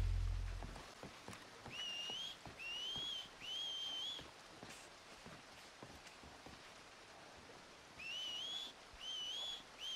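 A character whistles in Red Dead Redemption 2 with short rising two-note phrases, two clusters of about three each, set apart by pauses over faint rain-like patter and scattered soft clicks.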